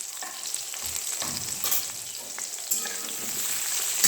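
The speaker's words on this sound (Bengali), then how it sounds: "বেগুনটা ফ্রাই করে নিই।" Eggplant frying in a pan with turmeric and salt, giving a constant close sizzle with a few sharper crackles and scrapes of stirring, no voices.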